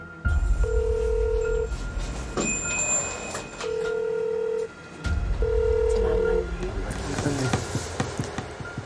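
An unanswered phone call rings out as repeated loud, even electronic ring tones in separated bursts, with clicks and handling noise between them.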